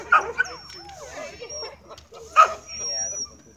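A dog lets out a couple of sharp yips, spaced a few seconds apart, while people talk nearby.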